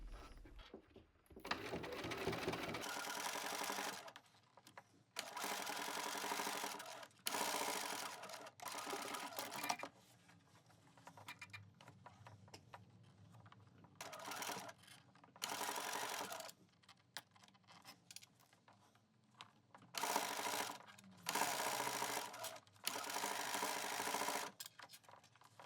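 A sewing machine topstitches with a lengthened stitch through the thick layers of a bag, running in repeated short bursts of rapid mechanical chatter separated by quiet pauses.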